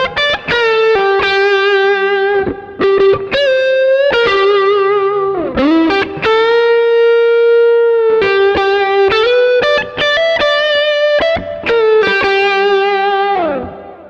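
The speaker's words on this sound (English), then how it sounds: "This next solo patch is slightly more overdriven with some reverb and delay." Overdriven electric guitar solo with reverb and delay, played through a PRS and Mesa Boogie rig: a fast run of picked notes, bends and a few held sustained tones, loud and continuous throughout.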